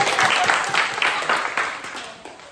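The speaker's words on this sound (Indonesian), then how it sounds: "tepuk tangan dulu." Group applause from participants at a teachers' training session, a dense crackling burst of clapping that starts loud and tapers off gradually over two and a half seconds.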